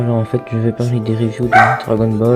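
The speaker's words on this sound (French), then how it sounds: "c'est mon chien qui a aboyé en fait" Pet dog barking indoors in short yappy bursts, heard under continuous close talking in French.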